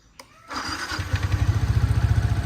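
A Yamaha R15 motorcycle, its speedometer broken after an accident, cranks briefly and then fires into a loud, close, throbbing idle with an even pulsing rhythm.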